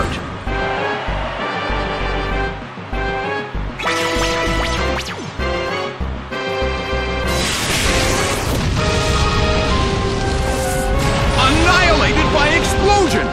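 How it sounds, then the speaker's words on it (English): Pokémon Explosion move in a Pokémon Battle Revolution match, a loud booming blast with crashing noise over game music, with an announcer's voice calling the battle. "Annihilated by explosion! It went down!"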